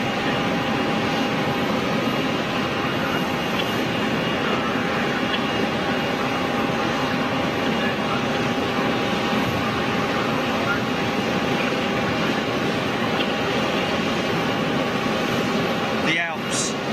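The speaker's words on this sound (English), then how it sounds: "the inbound aircraft making the noise, the peculiar noise that comes from those engines" At Zurich Airport, jet engines on an inbound aircraft give off a steady, even roar that stays constant throughout, with a faint brief chirp near the end.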